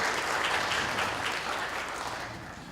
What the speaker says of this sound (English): Okay, so big round of applause.